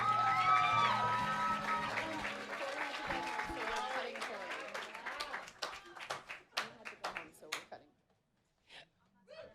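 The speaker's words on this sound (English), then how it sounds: "can everyone please give a big round of applause to Maddie?" Loud applause from a crowd, fading to scattered claps with a few whoops and voices toward the end.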